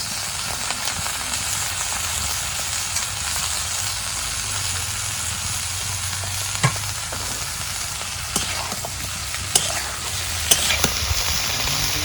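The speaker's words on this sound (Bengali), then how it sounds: "বাগার দিলাম" Tempering spices sizzling in hot oil for a village-style teasel gourd and potato fry, a steady frying hiss with stirring scrapes and a few sharp clicks and pops near the end, no talk.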